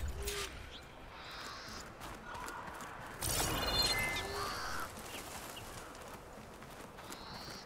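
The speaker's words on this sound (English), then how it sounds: "I'm hearing birds," Bird calls, crow-like caws among them, in the Horizon Forbidden West video game, a few scattered cries over a low ambient bed with occasional soft thuds.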